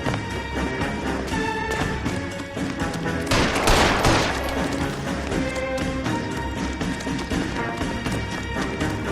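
Gunfire in the video game L.A. Noire crackles in rapid repeated shots over a dense game soundscape, with a loud burst partway through and steady background music and effects throughout.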